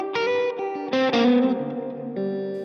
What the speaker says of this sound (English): there's a plate reverb